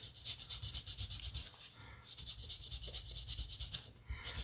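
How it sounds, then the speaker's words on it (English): A cotton bud soaked in acetone rubs leftover plasticine out of an epoxy fairing, making a faint, quick back-and-forth scrubbing in a steady, close rhythm. "I'm just using cotton bud soaked in acetone"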